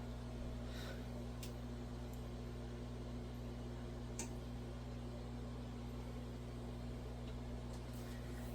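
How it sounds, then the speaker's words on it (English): A custom gravel filter runs in a low-maintenance shrimp tank, giving a steady, faint mechanical hum with a constant low drone and soft background hiss throughout, with no talking. "Maybe I should turn off the filter now."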